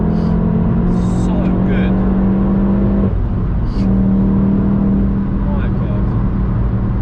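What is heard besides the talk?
VW Golf GTI Clubsport S accelerating hard uphill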